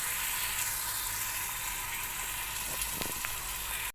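Moong dal (green gram lentils) frying in a pan, with a steady, dense sizzle running unbroken throughout and a few brief scraping stirs near the end.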